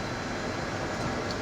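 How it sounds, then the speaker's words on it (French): Steady electric motor whine of a Mobilize Duo Neo 45 microcar, a continuous broadband hum and rush heard close and evenly loud throughout, with no talking. "Le moteur il chante plutôt bien, il fait un joli bruit."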